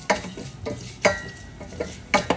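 Mustard, fenugreek and cumin seeds sauté lightly in a pan, with a soft sizzle under a few spaced scraping stirs of a utensil, close by.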